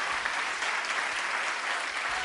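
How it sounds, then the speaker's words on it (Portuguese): A church congregation applauding during a sermon, steady dense clapping from many hands, fairly distant and sustained throughout with no voices over it. "Aplauda o Senhor Jesus mais uma vez."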